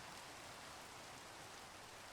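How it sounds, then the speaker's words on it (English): Steady rain at night in a Minecraft modpack world, a soft, even hiss of falling drops with no other sounds, faint and continuous. "Now, it's raining and it's nighttime"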